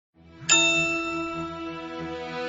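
Bright synthetic ding, a single clean bell-like tone that strikes sharply and rings out with a long sustain, standing alone in an otherwise quiet moment.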